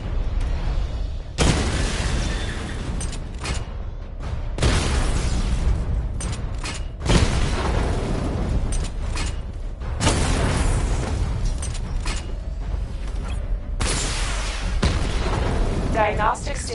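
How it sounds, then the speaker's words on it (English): Missile barrage volleys in a video game, with repeated heavy booms and bursts of explosions arriving in clusters over a steady rumbling bed, loud and close, with talk mixed in. "Missile barrage level 1 ready."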